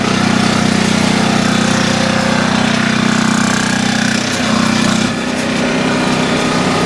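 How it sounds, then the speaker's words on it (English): An industrial press in a factory producing two-stroke exhaust pipe halves makes a loud, continuous mechanical drone that eases slightly near the end, with no talking over it. "We're putting them in the press, and you're gonna see a male-female part come together."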